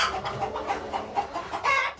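KUB chickens, an Indonesian native village breed, cluck close by in a rapid run of short repeated calls that swell louder near the end.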